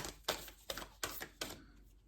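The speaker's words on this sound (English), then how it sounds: "These are very hard cards to shuffle." Four crisp riffling bursts from a large tarot deck being shuffled, evenly spaced and close by, with no talking over them.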